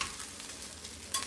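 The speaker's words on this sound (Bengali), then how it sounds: "এবারে সমস্তটা মিশিয়ে নাবিয়ে নিলেই হয়ে যাবে ফ্রাইড রাইস" Fried rice being stirred and tossed in a hot frying pan, a steady sizzle with scraping strokes and a sharper clink near the end, close and without talk.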